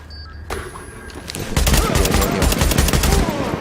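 Rapid automatic gunfire erupts after a brief quieter moment in The Division, loud and sustained with tightly packed shots continuing to the end.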